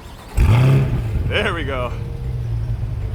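A 2020 C8 Corvette convertible fires up with a sharp starter catch and engine roar that settles into a steady idle, close and loud, while someone speaks briefly over it.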